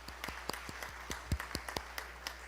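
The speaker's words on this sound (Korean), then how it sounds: "우리 하나님께 정말 영광의 박수 한번 올려드리겠습니다" Sparse, scattered claps from a church congregation praising God, faint and somewhat distant, with single hand claps landing irregularly rather than forming a full ovation.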